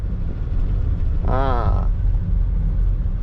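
A 2003 Toyota Camry 2.0 E automatic revs once, a short rising and falling burst of engine tone over a steady low idle rumble, close and fairly loud.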